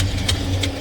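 A 1974 Plymouth Roadrunner engine idles steadily at close range, with a low rumble and two short puffing ticks from a cylinder-one exhaust leak.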